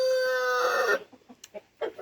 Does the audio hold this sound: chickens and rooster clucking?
yes